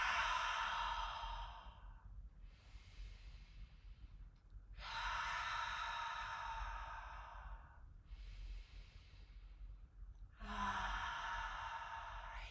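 Three slow, audible breaths through hands cupped around the mouth during an energy yoga exercise, each a long airy exhale with quiet pauses between, close and soft.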